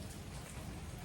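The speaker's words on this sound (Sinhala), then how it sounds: "වහිනව නේද?" Rain falls steadily in a soft, continuous patter, quiet and even throughout the short stretch, with no voices.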